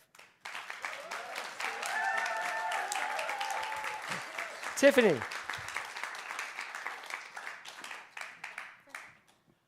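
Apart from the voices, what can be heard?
audience applause for That's Life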